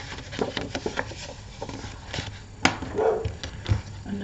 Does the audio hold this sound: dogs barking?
yes